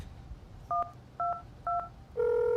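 A public telephone's keypad sends three short dialing tones at an even pace, each a clear two-pitched beep, before a louder steady tone comes on at the end, all close and clean over faint background hiss.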